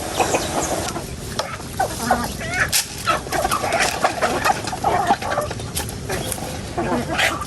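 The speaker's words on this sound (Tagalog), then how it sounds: "At bago po niya gapusan ay magpapakain muna po siya ng manok." A flock of chickens clucks and squabbles busily nearby while being fed, a steady excited chatter with brief voices in the background.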